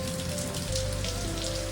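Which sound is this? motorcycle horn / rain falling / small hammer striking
rain falling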